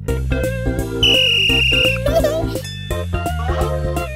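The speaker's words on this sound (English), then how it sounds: "He has a whistle." Pocoyo, as a traffic policeman in the children's cartoon, blows a whistle, a shrill sustained tone lasting about a second, set against bouncy music and quick cartoon sound effects.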